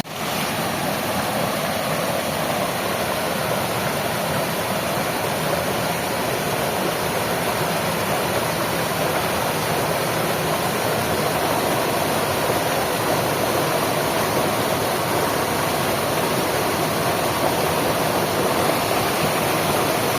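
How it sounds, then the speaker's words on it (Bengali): A mountain stream on the Parasnath Hill trek rushes over rocks like a small waterfall, making a loud, dense, unbroken roar of white water heard up close with no one talking. "এটি একটি নালা, কিন্তু এর যে জলস্রোত পাথরে ধাক্কা খেয়ে খেয়ে একটা ছোট্ট জলপ্রপাতের মতো সৃষ্টি করেছে।"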